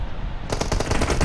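Rapid automatic gunfire from the mobile battle royale game BGMI erupts about halfway through as a loud, dense burst of repeated shots, with no talking.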